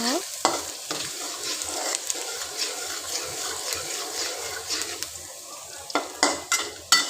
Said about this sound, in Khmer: ដាក់ប្រេងឆាឲ្យឡើងក្តៅសិនមករួចហើយចាំយើងដាក់បំពងខ្ទឹមស